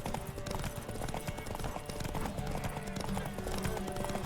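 A horse gallops in The Witcher 3 with rapid, continuous hoofbeats in an even driving rhythm, close and moderately loud against a busy game soundscape.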